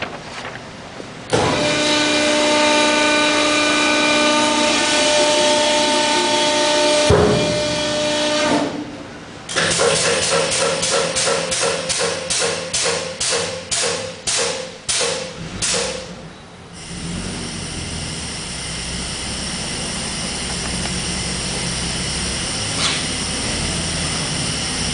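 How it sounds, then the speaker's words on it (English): A Dake 75-ton press runs with a loud tonal motor whine, then cycles through a stretch of rapid, rhythmic pulsing strokes as it closes and opens, ending in a steady mechanical hum without talk. "We're going to show the press closing."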